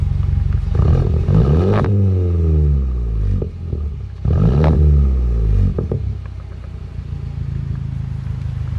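An engine revs twice in strong surges, its pitch sweeping up and falling back, then settles to a low rumbling idle, close and loud.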